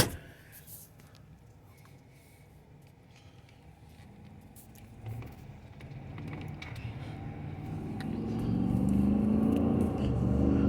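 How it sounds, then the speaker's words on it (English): A 2019 Chevy Suburban Premier with the 6.2L V8 accelerates hard, a muffled cabin engine drone that starts low and swells steadily louder and deeper toward the end. "I'll hit the gas pretty good."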